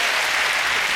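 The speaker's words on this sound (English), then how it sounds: "a big round of applause for our meerkat" Studio audience applause on a British comedy panel show, a dense, steady wash of clapping filling the whole moment at close, even loudness with no voices over it.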